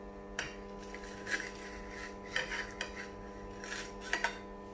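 A knife cutting through bread pizza on a plate, with several short scraping and clinking strokes of metal against the dish, close and quiet over a steady background hum.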